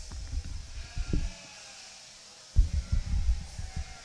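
Cheviot sheep at a livestock show pavilion, with short bursts of bleating and shuffling noise, a quiet gap, then another cluster of bleats and stirring close by.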